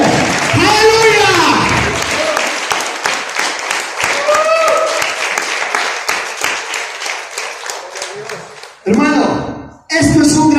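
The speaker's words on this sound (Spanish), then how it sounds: "Dale fuerte una ofrenda de palmas al Rey de Reyes y Señor de señores" A church congregation claps loudly and steadily in rhythm, the applause thinning out toward the end while voices shout over it and a short burst of cheering follows.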